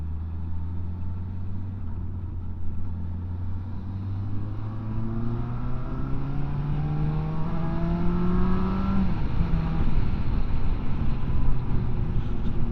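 Engine of a 2025 Benda LFC700 motorcycle revs up through the gears, its pitch climbing, dropping at each shift and climbing again, loud and close throughout with no talk.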